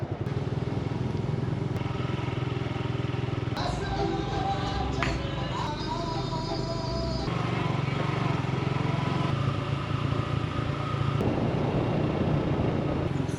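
Motorcycle engine droning steadily through the streets of Pátzcuaro, Michoacán, Mexico, ridden without a helmet, with low rumble and wind noise throughout, occasional clatter and passing traffic, and voices talking intermittently over the ride.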